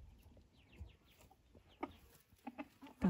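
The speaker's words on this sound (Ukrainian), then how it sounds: "Шовкова курочка." Soft, scattered clucks from a Silkie chicken, a few short calls spaced out over quiet farmyard background, growing a bit louder toward the end.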